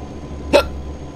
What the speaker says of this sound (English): Oh no, got hiccups as well, whatever next.